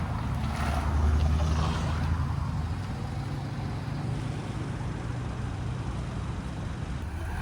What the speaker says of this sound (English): we're not done with the Jags because we've got the XK8 Roadster leaving as